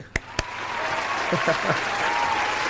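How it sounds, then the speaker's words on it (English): A small group gives a round of applause, a couple of sharp isolated claps first, then continuous moderate clapping that carries on steadily while a voice briefly speaks over it. "give me a round of applause"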